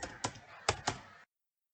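Keys on a computer keyboard clack in a short burst of four crisp taps, close and fairly quiet, then fall silent.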